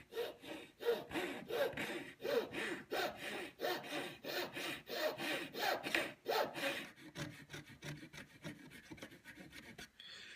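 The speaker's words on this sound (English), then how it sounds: "So you're going to start your saw right in that groove that you cut. And actually a couple pull strokes is probably all you're going to need." A hand saw cuts wood for a Chippendale chimney piece in steady, evenly spaced pull strokes, close and raspy, slowing and softening toward the end, with no voices.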